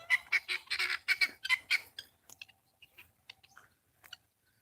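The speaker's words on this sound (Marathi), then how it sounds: "आणि हे आपले गिनी फॉलचे पक्षी आहेत" Guinea fowl give a run of harsh, rapid chattering calls that thin out into scattered, fainter cries close by.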